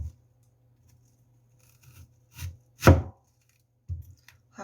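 A knife chops onions on a cutting board for a stir-fried potato dish: a few sparse, soft thuds followed by one sharper slicing cut, each stroke separated by quiet pauses.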